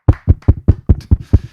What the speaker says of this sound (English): Claps all around, people.